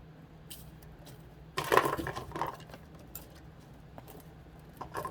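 A loose plastic lid rattles and clatters among beads in a craft container, a burst of close clicking and shuffling followed by scattered lighter clinks against quiet background hum.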